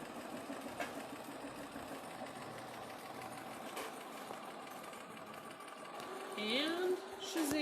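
A sewing machine stitching a quilt seam for a nine-patch block, a steady mid-level mechanical whir running throughout with a few sharper knocks, ending in a louder rising whine of the motor.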